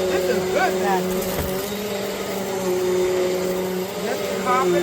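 Eureka NEU10AE5 bagless upright vacuum cleaner running on carpet, a loud steady motor drone with a constant whine, close by, with a voice talking over it.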